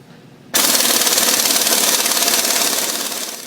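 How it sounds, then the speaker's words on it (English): A 9/16 socket on a power impact tool loosens U-bolts holding the rear leaf springs of an EZGO Workhorse utility cart, a sudden loud steady rattling buzz starting after a brief quiet moment and running to the end. "using a 9/16 socket, you want to unattach the U-bolts that are holding the leaf springs"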